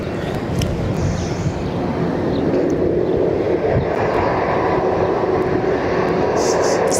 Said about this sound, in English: It's a 10-year-old American Airlines Dreamliner.